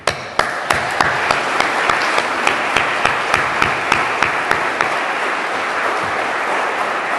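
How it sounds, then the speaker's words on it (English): Room applause for Jane Lozorchak at a climate council meeting: steady clapping from a modest group, with sharp individual claps standing out at a regular beat over the sustained patter, running on without pause. "I want to invite folks to give a round of applause to Jane"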